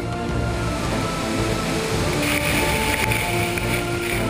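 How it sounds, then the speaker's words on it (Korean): Pagsanjan Falls in the Philippines pours with a dense, constant roar of falling water, loud and close, with no pauses or voices. "떨어지는 폭포의 물줄기는 그 소리만으로도 얼마나 거센지 알 수 있을 정도."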